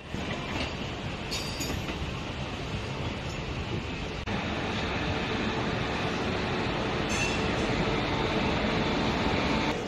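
The Shantiniketan Express rumbles steadily into Bardhaman Junction with constant rolling noise and faint metallic squeals, loud and close, no voices.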